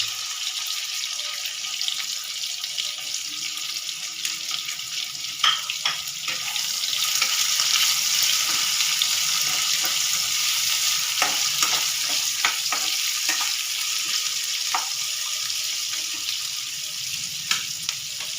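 Two large chopped onions fry in a pan for chilli potato, giving a steady, close, bright sizzle throughout with occasional clinks and scrapes of stirring and no talking.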